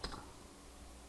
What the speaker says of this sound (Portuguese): Vou apertar Enter e olha como é que vai demorar.